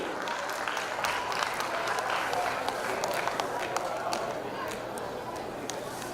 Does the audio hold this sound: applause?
yes